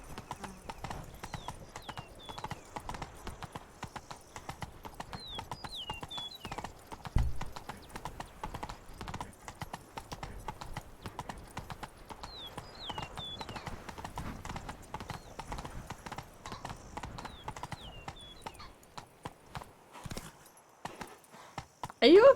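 Steady clip-clopping hooves of the horse Roach in The Witcher 3: Blood and Wine, a continuous even rhythm of light strikes lasting throughout.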